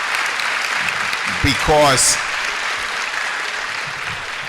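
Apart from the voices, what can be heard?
audience applauding the parents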